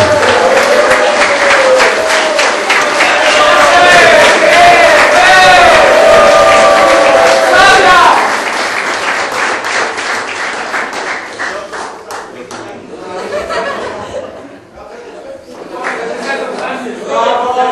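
Loud applause and crowd noise at a league closing gala, with voices and cheering mixed in, strong for the first half then fading into scattered clapping and chatter.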